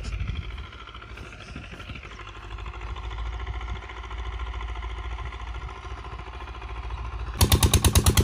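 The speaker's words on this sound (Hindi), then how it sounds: "और ये पीटर इंजन चल रहा है और इसकी मदद से पानी दिया जा रहा है खेतों को।" A Peter diesel engine driving a tubewell pump to water fields runs with a steady chugging drone outdoors, joined near the end by a louder, sharper rapid knocking engine close by.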